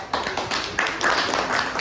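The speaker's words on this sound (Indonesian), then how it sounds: "kasih tepuk tangan" Brief classroom clapping, a short burst of many hands clapping at moderate volume, close and lively, with faint voices under it.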